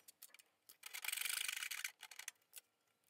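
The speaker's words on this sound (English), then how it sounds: "sawing the double tenons" A hand saw cuts double tenons in wood for a midcentury modern coffee table base, giving a close run of rasping strokes that builds to a dense burst in the middle and then breaks into a few shorter scrapes.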